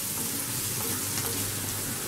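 Onions for a Kerala egg curry fry over medium heat, giving a steady, dense sizzle with a soft continuous crackle and no pauses.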